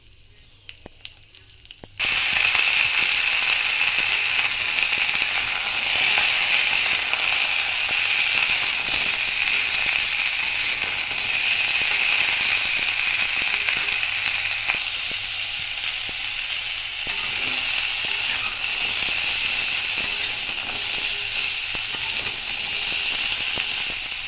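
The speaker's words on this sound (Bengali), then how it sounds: "তেলটা গরম হয়ে গেছে, দিয়ে দিচ্ছি একটা শুকনো লঙ্কা আর 5 ফোড়ন।" Dry red chilli and five-spice seeds hitting hot oil for a Bengali stalk chorchori, a sudden loud burst of hissing sizzle that stays strong and steady after a brief quiet start.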